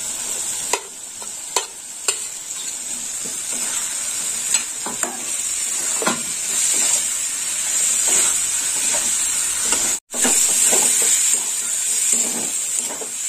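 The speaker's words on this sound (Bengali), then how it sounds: "পোস্তটাও ভাজা হয়ে যাবে এর সাথে।" Poppy seed paste fries with potatoes in a hot pan, giving a steady close sizzle broken by repeated spatula scrapes and stirring knocks, with a brief pause partway through.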